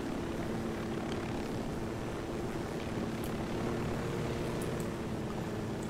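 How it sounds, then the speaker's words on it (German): Helicopter in the video game Ghost Recon Wildlands, a steady droning engine and rotor rumble that fills the whole stretch evenly at moderate level, with no talking. "Ein Heli."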